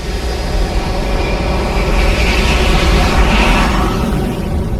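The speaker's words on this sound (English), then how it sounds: "to the thunder of a jet engine" Jet engine roar played as a cinema surround sound demonstration, a dense, steady, loud rushing thunder with a hissing upper edge, continuous throughout without any voices.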